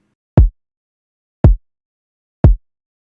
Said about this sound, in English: The kick sample that I used sounds like this.